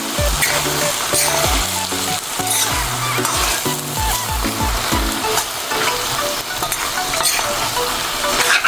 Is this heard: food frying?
yes